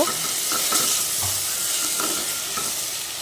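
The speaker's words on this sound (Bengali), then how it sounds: "রসুন বাটাটা দিয়ে হালকা একটু নেড়েচেড়ে মিশিয়ে নিব" Garlic paste being stirred into onions frying in a pan for a tilapia fish curry, a steady sizzle under soft scraping stir strokes, close and even throughout with no talking.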